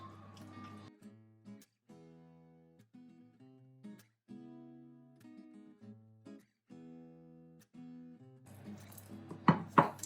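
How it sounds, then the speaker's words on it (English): Muffin batter being stirred in a bowl: a run of short, regular scraping knocks from the spoon, with brief pauses between strokes and a louder clatter at the end. "we're going to give that a good mix until it is incorporated"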